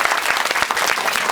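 An indoor audience at a Christmas fellowship celebration in Hyderabad claps to welcome a guest to the stage, a dense, continuous burst of applause with no voices over it.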